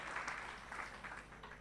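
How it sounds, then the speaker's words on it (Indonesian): Church congregation clapping at a Sunday worship service, a steady spread of hand claps that holds at a moderate level for the whole stretch with no voices over it. "Mari tepuk tangan dulu bagi Tuhan kita Yesus Kristus."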